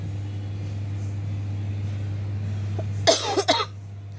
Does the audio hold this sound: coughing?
yes